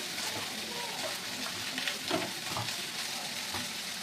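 Roti cooking on an overheated tawa while being pressed down with a cloth, giving soft continuous sizzling with scattered crackles and faint rustling, close by and unaccompanied by speech.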